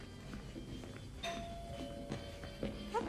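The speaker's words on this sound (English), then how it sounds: "That doorbell's been broken for years." Doorbell chiming inside an apartment in the video game Spider-Man Miles Morales, a faint tone ringing once amid quiet room sounds and light footsteps, with a brief sharper chime near the end.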